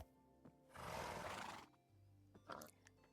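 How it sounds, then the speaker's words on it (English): Horse in the Minecraft video game gives a long, loud breathy neigh lasting under a second, with shorter snorting sounds before and after, close against a quiet background. "That's a good horse."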